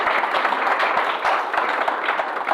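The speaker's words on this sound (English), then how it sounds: "let's give her a round of applause" A room full of people claps steadily, a dense wash of applause lasting a couple of seconds without speech.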